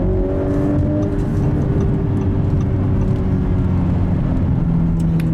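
A 2018 Audi S5 coupe with 354 horsepower and Quattro all-wheel drive accelerates hard, its engine note loud, close and steady as it pulls for about five seconds with no talking.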